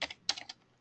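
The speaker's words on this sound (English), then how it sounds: "So I'm just going to type in a couple product codes here just to give an example." Product codes are typed on a computer keyboard: a quick, close burst of about six light key clicks within under a second, then quiet.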